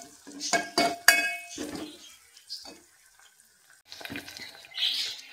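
Onion sautéing with cumin and garlic in a pan for a Vidarbha-style fenugreek aalan: clinking utensil scrapes and stirring come in uneven bursts, with a quiet gap in the middle and soft sizzling around them.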